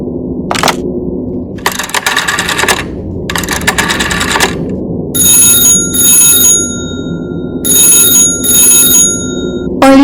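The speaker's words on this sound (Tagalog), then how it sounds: "Kailangan kong tawagan si Orly." A telephone rings in repeated double bursts during an outgoing call, each ring clear and fairly loud over steady background noise, with no talking.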